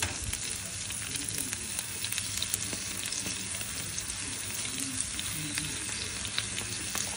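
Shrimp fry in a pan for garlic butter shrimp, giving a constant, dense crackling sizzle that stays even and close throughout with no talking.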